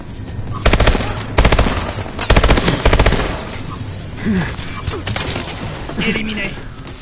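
Bursts of automatic gunfire from a PS4 video game, several rapid rattling volleys in the first three seconds, then quieter game sounds and scattered effects, with players talking over it.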